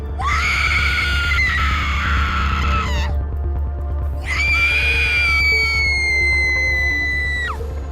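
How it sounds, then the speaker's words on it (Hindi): A woman lets out two long, shrill screams, each held for a few seconds, loud and close over a low rumbling background. "कोयला पड़ते ही वो चिल्लाने लगी"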